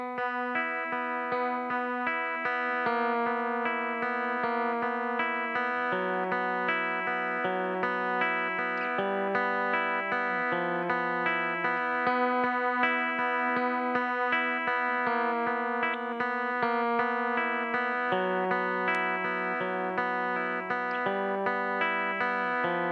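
Electric guitar playing the intro riff of a song through effects with distortion and chorus, a steady dense stream of picked notes and sustained chords, close and loud throughout with no talking.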